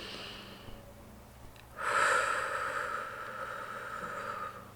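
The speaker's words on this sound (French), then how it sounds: "je vais m'arrêter sur cet endroit et respirer profondément." Deep breathing in a vocal warm-up: a faint breathy sound, then a sudden louder, sustained airy inhale or exhale lasting a few seconds, close and alone.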